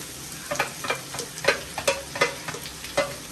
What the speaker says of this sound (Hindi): चलो अब प्याज डाल दे रहे।